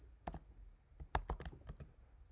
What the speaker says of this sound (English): Type in their email address